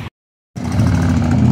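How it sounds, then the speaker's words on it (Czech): Motorcycle engine at a railway crossing in Braník, a loud, close mid-pitched engine drone that cuts in abruptly after a brief silence and holds steady to the end. "Ještě motorka."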